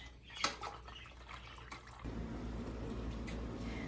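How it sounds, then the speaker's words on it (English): Water is poured into a cooking pot to top it up before boiling: a few faint drips and clinks, then a steady rushing pour that continues to the end. "I'm going to top it off with some more water just to ensure we have enough water in here."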